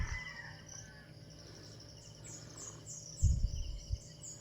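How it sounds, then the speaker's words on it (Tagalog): Several birds chirp and tweet faintly in the distance over a low outdoor hum, with a few dull thumps close by near the end. "nag-iingay ng mga ibon guys"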